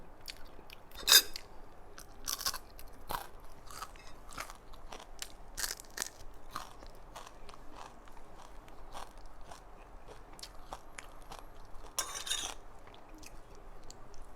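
Fried sun-dried fish crunched and chewed up close, a string of crisp crackling bites and chews at an uneven pace, faint but distinct, with two louder bursts of crunching.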